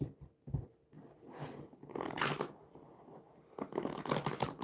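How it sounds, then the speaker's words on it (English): A deck of cards being shuffled close by, with irregular bursts of riffling and rustling that swell and fade over several seconds, no talking. "Give it a good shuffle."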